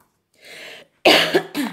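A soft breathy noise, then a sharp, loud cough followed by a second shorter one, close to the listener.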